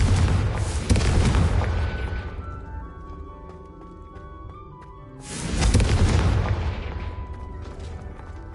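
A fire spell blasts in the Hogwarts Legacy video game on PS5, two loud booming explosions a few seconds apart, each rumbling and ringing out into a long tonal decay.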